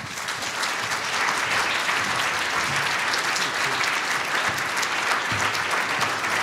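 An audience at a STEM summit applauds steadily to welcome Vice President Joe Biden, a dense, even wash of clapping from a large crowd that holds at full strength throughout.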